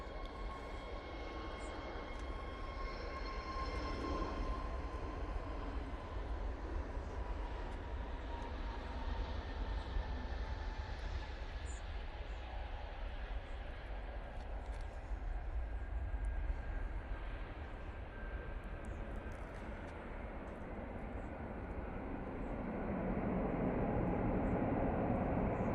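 Virgin Atlantic Airbus A350-1000 arriving from Orlando and landing at Manchester Airport: a long sustained jet rumble with drifting engine tones that fade mid-pass, then a swelling roar toward the end, heard alone without talk.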